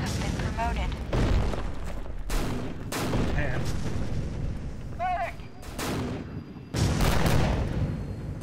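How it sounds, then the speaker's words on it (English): Grenades explode repeatedly in a battle in the Empires Source mod, a series of heavy booming blasts spaced a second or two apart, loud and close, under some talk and a faint tonal game signal. "So many grenades. There's more grenades."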